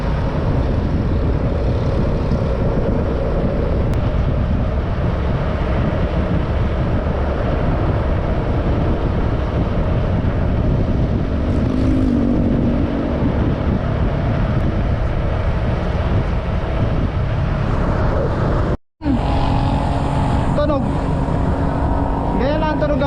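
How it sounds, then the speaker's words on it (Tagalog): Motorcycle engine droning steadily while riding along a rural route in Siruma, Barangay Pinitan, a loud continuous rumble with wind and road noise, a brief dropout near the end, then the engine resumes. "Ganyan lang tunog ang motor."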